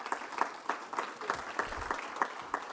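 Small group clapping, a thin sparse patter of individual claps in an uneven rhythm, fairly faint and continuous for a few seconds.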